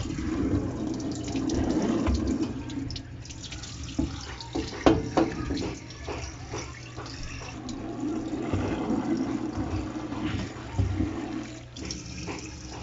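Water running and splashing steadily from a tap onto a cylindrical milk tea cup print to soften it, a continuous close rush of flow with brief clatter in the middle.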